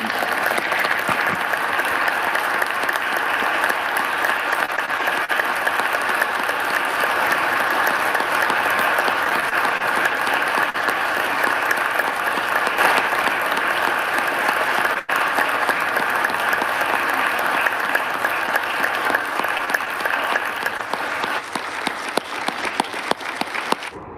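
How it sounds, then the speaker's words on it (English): A long, sustained ovation in the Senate chamber as senators, staff and gallery spectators stand and applaud a retiring senator, steady crowd clapping lasting over twenty seconds before thinning at the end. "The Senate gives Mitch McConnell a standing ovation as he announces his retirement."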